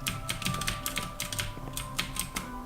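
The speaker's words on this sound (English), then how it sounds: "my keyboard is loud and I'm sorry about that." Rapid clacking of a loud computer keyboard, dense uneven bursts of keystrokes close to the mic with a faint steady hum beneath and no talking.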